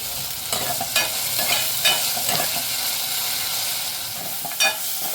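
Onion and tomato being sautéed and stirred in a pan with salt, a steady close sizzle and frying hiss with scraping stir strokes throughout, no voices.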